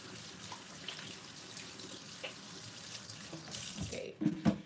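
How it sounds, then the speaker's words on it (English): Hands are washed under a running kitchen tap while meatloaf is being made, with a faint, steady water hiss that swells into louder splashing near the end. "let me wash my hands here."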